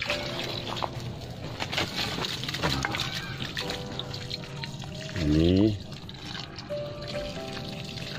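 Liquid fertilizer poured from a container onto the base of a water apple tree, a soft continuous splash and trickle with a short louder burst midway, while someone talks over it throughout.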